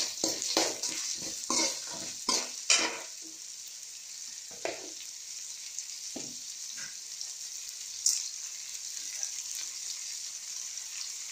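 Salted onions sautéing in a pan for mango chitranna are stirred with a run of quick spoon scrapes and taps at first, then settle into a faint, steady sizzle with a few isolated clinks.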